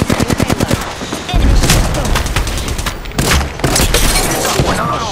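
Gunfire in the video game Apex Legends: a crisp rapid burst of evenly spaced shots opens, followed by heavier booming blasts and layered shooting, loud and close.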